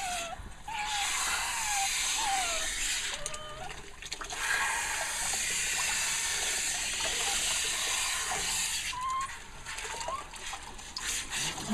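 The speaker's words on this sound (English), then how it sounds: "One more little spray on your chest." Water spraying onto a dog's chest during a bath, a steady close hiss and splash running continuously through the clip, with a person's voice speaking softly over it at times.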